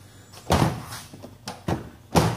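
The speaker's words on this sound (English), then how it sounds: "Close the door." A door in a repair shop near a repaired Samsung washing machine thuds shut, with several firm knocks and closing impacts spaced apart, close and fairly loud.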